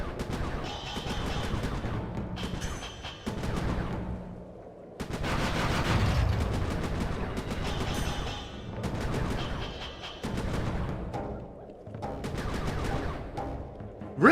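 Fireworks attacks in the video game Sly 3: Honor Among Thieves, a dense, continuous barrage of crackling bangs and explosive bursts in repeated waves, loud and close over a game soundtrack.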